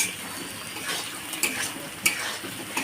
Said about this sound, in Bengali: এই পেঁয়াজগুলো একটু ভাজে নিব